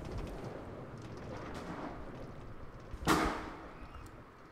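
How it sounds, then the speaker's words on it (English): In Minecraft, a theme park ride sets off a single sharp explosion burst after a stretch of low rumbling ride noise, the blast fading out over about a second. "Love the explosions. It makes the ride more explosive."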